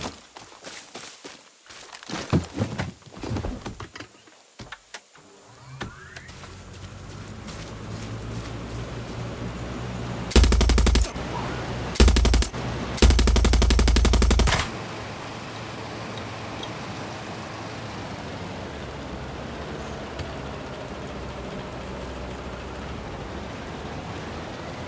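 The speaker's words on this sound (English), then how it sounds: "I have been waiting to use my rocket launcher." Rocket launcher blasts and gunfire in the Far Cry 6 video game: a short cluster of loud, harsh bursts mid-scene, standing out over a steady low ambient rumble and patter with no talking.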